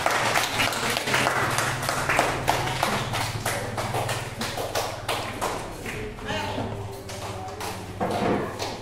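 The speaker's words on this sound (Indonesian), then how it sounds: "Kita tepuk tangan untuk kelompok 3" A classroom claps for group 3 in a dense, steady burst that runs the whole stretch. The hand claps are close and even, with a low hum underneath.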